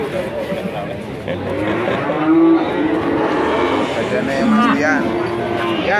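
A Belgian Blue cow at a busy livestock market lets out a couple of low, drawn-out moos amid steady crowd noise, while people talk nearby throughout.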